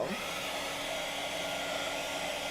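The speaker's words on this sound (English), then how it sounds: "I'm gonna speed dry this a little bit" Hair dryer blowing steadily at close range to speed-dry a stamped paper background in a craft session, a continuous loud broadband whoosh with no talk.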